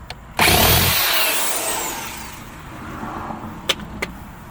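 A power drill drives screws inside a 2003 Chevrolet Tahoe during a subwoofer install: one loud whirring burst that fades over about two seconds, followed by a couple of short sharp clicks.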